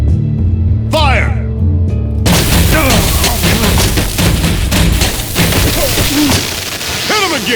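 Gunfire in the Batman: The Enemy Within game comes as loud, chaotic bursts of shots and impacts with whooshes, crashing right after an opening whoosh and shouted voices amid the action.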